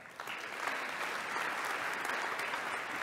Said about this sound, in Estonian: tunnustame ka neid suure aplausiga